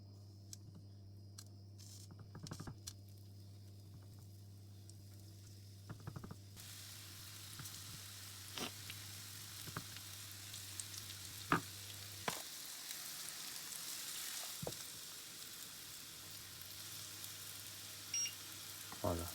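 Soft, steady sizzling from flour-dusted tofu frying in oil in a pan for banh cuon, faint and continuous with occasional light clinks and stirring sounds.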